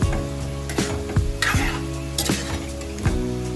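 Amla (Indian gooseberries) fry in oil for a pickle, with a continuous close sizzle broken by several sharp clinks and scrapes of a spoon against the pan at irregular intervals, and no voices.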